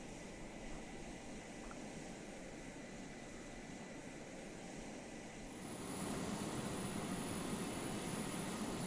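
In the video game Arma 3, a Su-35S Flanker jet taxis with a steady, quiet engine roar and a high whine that rises slightly partway through.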